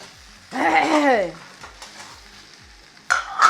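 Javanese fried rice being stir-fried in a pan at home, a steady sizzle with scraping stirs of a utensil, partly covered by a person talking or singing near the start and end.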